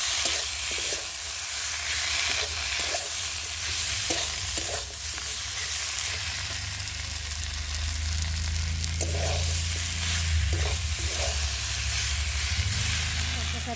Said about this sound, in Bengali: আর এবার এর মধ্যে দিয়ে দেবো আদা বাটা, জিরে বাটা আর রসুন বাটা দিয়ে একটু ভালো করে কষিয়ে নেব।